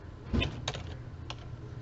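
Fingers tap keys on a computer keyboard while crafting a custom recipe in Minecraft 1.18, a few close, sharp clicks in quick succession, the first the loudest, with quiet pauses between and no voices.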